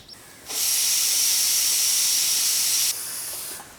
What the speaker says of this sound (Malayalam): ഒരു ആറ് വിസിൽ വന്നിട്ടുണ്ട്